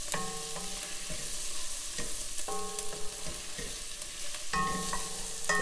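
Garlic and shallots sizzle steadily in oil and butter in a pan, a continuous frying hiss with occasional clinks of a utensil stirring, close and without talk.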